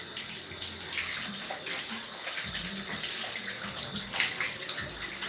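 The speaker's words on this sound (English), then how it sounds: "I gotta put this water on warm." Tap water running steadily from a faucet as it warms up for hair washing, a continuous close hissing splash with slight shifts in flow and no other sounds.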